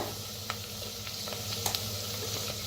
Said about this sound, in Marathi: छान असं भाजूया